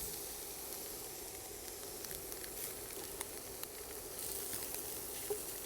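Tofu coated in a spice rub sears in a hot pan, giving off a steady, close sizzle and hiss throughout, with small pops and crackles scattered across it.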